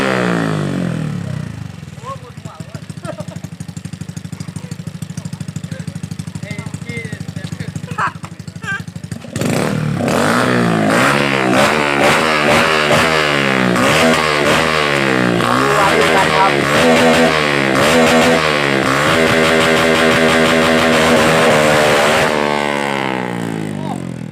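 A motorcycle is ridden close by, idling steadily at first and then revving hard with repeated rising and falling engine pitch as it pulls away and shifts; a voice is heard at times.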